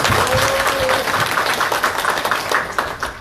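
An audience at a political party talk concert in Korea claps in a dense, steady applause that carries through the whole stretch.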